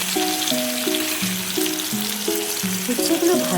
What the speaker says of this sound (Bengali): এরপর এই একই তেলে আমি উচ্ছেগুলো আগে থেকে কেটে রেখেছি, আমি লাল লাল করে ভেজে নেব।